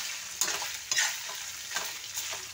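Food fries in a pan and is stirred, giving a soft, continuous sizzle broken by a few quick scraping strokes of a utensil, close by and fairly quiet.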